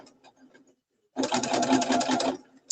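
A sewing machine runs steadily for about a second and a half, stitching a back stitch at the end of a seam, loud and close after a brief quiet pause, with faint talk before it.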